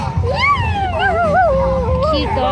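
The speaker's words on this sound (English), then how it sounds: "Cute dogs." Dogs at an outdoor car show whimper and whine in high, wavering, sliding tones, close and fairly loud, with a continuous low rumble of background noise beneath.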